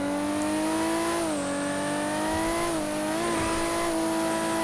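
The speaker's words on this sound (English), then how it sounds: "Listen to the turbo when I let off." Toyota Supra with a turbocharged 2JZ engine in GTA 5, a loud steady whine with engine drone that shifts pitch as the throttle lifts and returns, heard alone and close.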